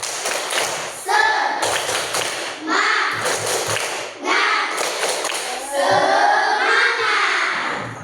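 A fourth-grade classroom of children performs a spirit clap, with rhythmic bursts of clapping and thumps mixed with their chanting voices, loud and close.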